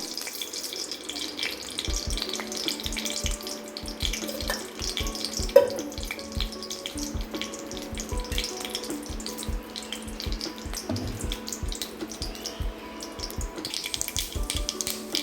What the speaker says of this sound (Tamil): பார்த்திங்கன்னா கடுகு பொரியுது